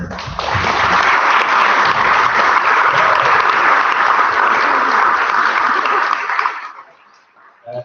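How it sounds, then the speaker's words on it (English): Loud, close audience applause at a student JCR meeting, a dense even wash of clapping that holds steady before cutting off fairly abruptly, followed by a moment of quiet and faint room noise. "So we're going to round of applause."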